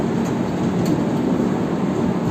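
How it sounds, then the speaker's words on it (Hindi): The Dibrugarh–New Delhi Rajdhani Express, train 20503 on the Northeast Frontier Railway, running on rails after leaving New Bongaigaon: a loud, steady, close rumbling roar with constant wheel-and-track noise and faint rattles, with no voices. "और हमारी ट्रेन जो है कि न्यू बोंगाईगांव से डिपार्ट हो चुकी है।"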